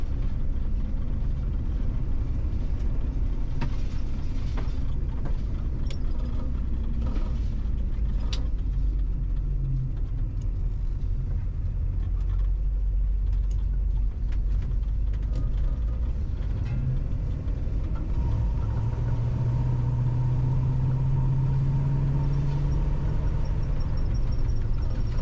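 An old RV engine drones steadily from inside the cabin while driving, a constant loud low rumble with road noise, rattles and clunks, and a rising engine pitch near the end.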